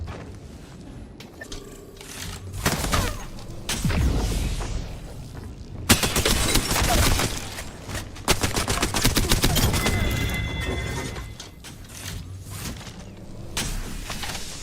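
Rapid bursts of automatic gunfire in the Apex Legends battle royale game, dense and loud for long stretches with brief gaps, mixed with explosions and game effects while a player speaks now and then.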